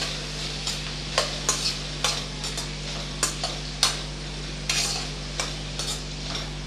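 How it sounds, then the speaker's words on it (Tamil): Cut brinjal sautéing in a pan, a spatula scraping and clattering against the metal in a quick, uneven rhythm over a continuous sizzle and a steady background hum. "இப்போ நம்ம கட் பண்ணி வச்ச கத்திரிக்காயை சேர்த்துக்கலாம். சேர்த்து நல்லா வதக்கி விட்டுறலாம்."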